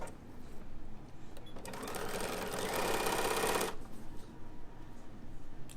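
Sewing machine stitching a zip into fabric, a steady fast mechanical whir running for about two seconds between brief handling noises, close and clear.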